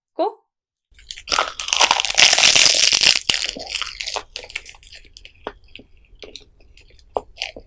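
Spicy triangle kimbap from a convenience store eaten in a few big bites, with loud close crunching and chewing that swells into a dense burst, then tapers into softer, scattered chewing.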